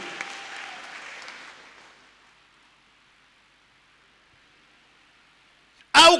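A church congregation claps in a soft, distant patter that fades into near silence, then a sudden loud burst of clapping breaks in at the very end.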